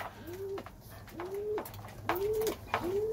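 Bango pigeons coo inside a coop, giving four clear, close, rising coos at a steady, unhurried pace against a faint background.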